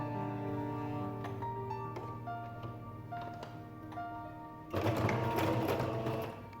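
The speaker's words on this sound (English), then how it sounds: "then we sew along this line and along this line" A sewing machine stitches through jeans fabric with a steady, rapid mechanical whir and ticking, close and fairly quiet, growing louder and harsher in the final seconds.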